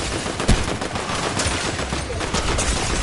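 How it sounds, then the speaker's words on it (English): Gunfire in the video game Fortnite: dense, loud volleys of rapid shots blending into a continuous roar with sharp individual cracks, close and busy for the whole stretch. "Is that a bot I'm shooting at?"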